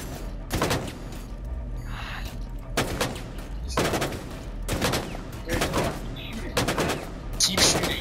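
Rapid gunfire from the Rainbow Six Siege video game, with several sharp bursts of automatic shots spread across the clip over constant game noise, loud and close.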